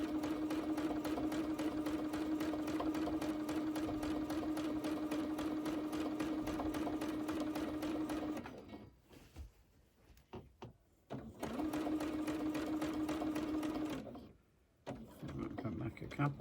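A sewing machine hums steadily while free-motion quilting along a quilt border, stopping for a stretch of quiet handling and starting again in a second run, then pausing once more.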